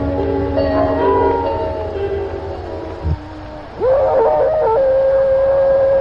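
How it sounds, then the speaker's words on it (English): Wolves howling in the werewolf horror film Werewolf in a Girls Dormitory: long, wavering tonal howls, one gliding voice fading out before a brief pause, then a louder rising howl that holds steady, clear and prominent. "You hear the wolves?"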